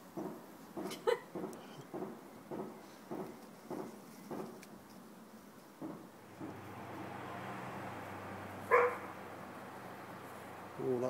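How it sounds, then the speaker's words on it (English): A dog in a garden barks in a rapid series of about ten sharp, fairly distant barks, followed by a steadier background rumble and one louder bark near the end. "Oh, that's the sound of a dog."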